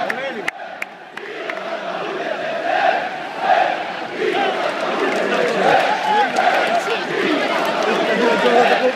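Large crowd of football fans in a stadium, a dense roar of chanting and chatter that holds steady and swells slightly, with a few sharp claps or bangs near the start.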